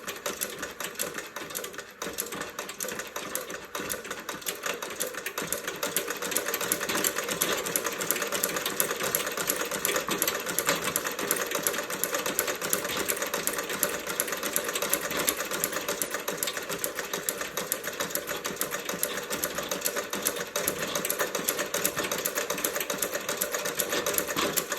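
A Singer 29-4 boot patcher sewing machine stitches with a rapid, even mechanical clatter that runs continuously for over twenty seconds, close and fairly quiet, with no talking.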